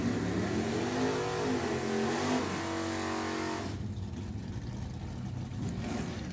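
Nostalgia drag racing Camaros, a 1967 and a 1973, rev loudly up close, the engine note rising and wavering before easing to a lower steady roar partway through.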